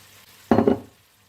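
Vegetables being stirred into a pot of homemade vegetable broth: one short, close burst of sloshing and scraping lasting under half a second, between quiet moments, with no talk.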